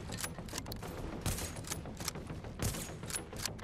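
Rapid bursts of gunfire from The Division video game, with sharp repeated shots among a dense, steady clatter of game combat, loud and close, with no talk.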